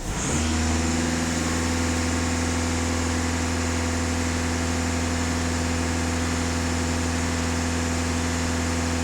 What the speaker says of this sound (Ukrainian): Даю 2500 обертів